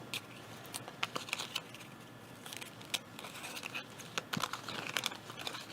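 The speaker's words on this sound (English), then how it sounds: "take those, shuffle them up." Cardboard director's tokens for the 1862 board game being shuffled by hand, a soft continuous crinkling and clattering with scattered sharper clicks, close and fairly quiet, no talking.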